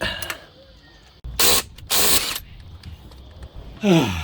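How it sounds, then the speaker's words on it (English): An impact gun works at a wheel on a 1988 Jaguar XJ12, firing in two loud, harsh rattling bursts, each about half a second long. Quieter mechanical noise sits between them, and someone speaks briefly at the end. "you probably shouldn't use an impact gun on these things"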